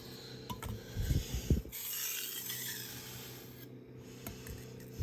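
A knife blade is drawn in repeated rasping strokes across a Naniwa Chosera 600 grit whetstone, the close, steady scraping quiet at first and then continuing in a longer sustained grind, with no talk.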